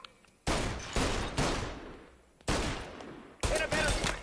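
Bursts of gunfire in Mafia: Definitive Edition, four loud volleys of rapid automatic shots separated by short gaps, each burst decaying with echo.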